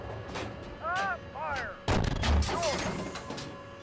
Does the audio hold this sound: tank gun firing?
yes